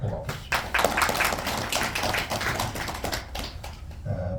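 A crowd at a political party gathering applauds a party secretary-general with a steady, dense patter of clapping that fills most of the stretch, and a voice speaks briefly near the end.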